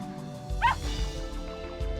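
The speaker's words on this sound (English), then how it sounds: "it's a dog" A dog named Pipi in the visual novel Ever17 gives a single short, high yelping bark, followed by soft whimpery yips over a steady low background hum, with no talk over it.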